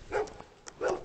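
Two short barks from a wolfhound in a Christmas-themed hidden object video game, spaced apart and moderately loud, with faint clicks between them.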